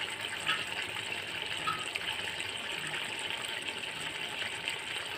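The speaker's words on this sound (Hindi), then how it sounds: "ये मैंने इमली का पानी डाल दिया।" Tamarind water poured into a cooking pot while making black gram flat chickpeas: a faint, steady trickling and gushing of liquid running continuously for several seconds, with no talk over it.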